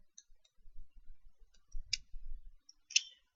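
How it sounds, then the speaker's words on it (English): Computer mouse in a desk workspace giving a few faint, sharp clicks, spaced irregularly across a few seconds, with soft low handling bumps in between. "I'm going to right click and say OK."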